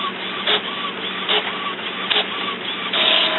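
An Epson Expression XP-600 inkjet printer prints a page with a steady mechanical whir, broken by recurring carriage swishes and short feed clicks at regular intervals, close and loud with no talk.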